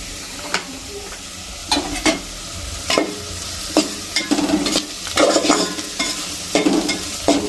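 Spiced masala for egg biryani being stirred and fried in a pan, a low sizzle broken by repeated spoon scrapes and clatters in an uneven rhythm, close and fairly loud.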